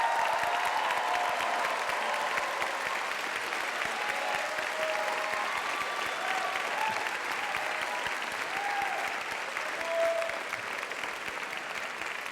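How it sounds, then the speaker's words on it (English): Sustained audience applause at a college commencement honoring graduating classes, steady and dense clapping filling the hall for about twelve seconds, with faint voices mixed in beneath it. "please rise and be recognized with our applause and congratulations"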